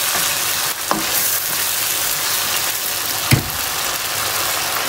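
Green cabbage leaves dropped into hot masala in a pan, cooking for fried aloo gobi, make a loud, steady, hissing sizzle with two brief knocks of a spoon.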